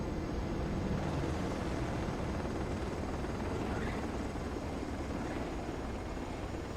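A helicopter in the video game Ace Combat 7 flying, a constant dense rotor and engine drone that stays steady and fairly quiet for several seconds, with no one talking.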